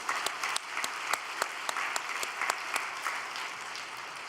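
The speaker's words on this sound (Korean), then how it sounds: "우리 감사의 박수 올려드리겠습니다" An audience at a prayer gathering gives steady applause with many sharp claps, moderately distant and even throughout, with no voices over it.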